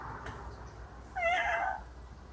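A cat gives one wavering, vibrato meow, a short warbling call that rises out of a quiet room and fades after about half a second.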